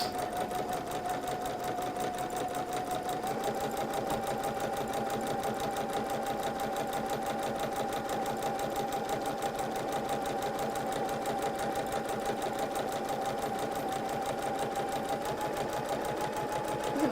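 Juki sewing machine running steadily while stitching a gentle curve at about a 2mm stitch length, a continuous quiet rapid whir with fine rhythmic ticking throughout, close up and without talk.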